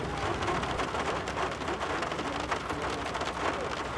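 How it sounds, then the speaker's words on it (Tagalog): Steady, dense roar of heavy rain pouring down without pause in Las Piñas, Metro Manila, loud and constant throughout. "bumuhos na naman ng malakas na ulan."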